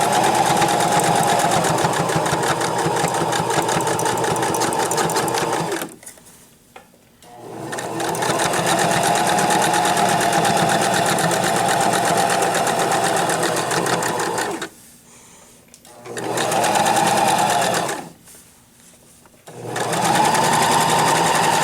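A sewing machine stitches a duck pillow in long, steady, loud runs, stopping twice for short pauses before starting again.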